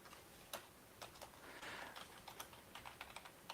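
Faint, steady clicking of computer keyboard keys being typed on, irregular taps scattered close by in a quiet room with no talk.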